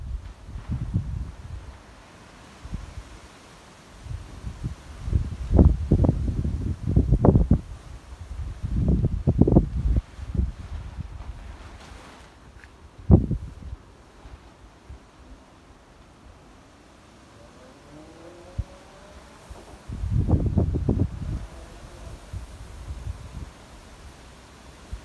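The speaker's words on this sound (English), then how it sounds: "It's still really windy, so are you ready? Let's go listen to the wind a minute." Strong, gusty wind blows outdoors at a British home near a new fence, with rough, low rumbling bursts buffeting the microphone in several waves between calmer stretches.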